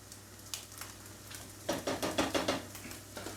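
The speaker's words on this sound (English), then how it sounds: "give that a stir" Ham and peas pasta being stirred in a pot, a run of rhythmic scraping strokes with light clinks of utensil against the pan, close and fairly quiet.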